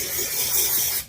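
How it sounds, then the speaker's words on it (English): Aussie Headstrong Volume hairspray with bamboo and Australian Kakadu plum is sprayed from a can in one steady, close hiss lasting about a second before cutting off. "now I'm going to use the Aussie Headstrong Volume Hairspray with Bamboo and Australia Cockadoo Plum Hairspray"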